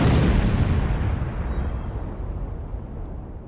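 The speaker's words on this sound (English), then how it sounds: "we throw grenades in and go kablooey" A big grenade blast in the real-time strategy game Command and Conquer: Tiberian Dawn, a loud close boom that rolls off into a long fading rumble with no talk over it.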